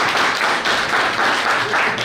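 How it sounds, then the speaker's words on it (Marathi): A crowd at a school batch reunion claps together in a dense, steady burst of applause, moderately loud and close, with the clapping rising and falling slightly over a couple of seconds and no clear talk. "टाळ्या वाजून"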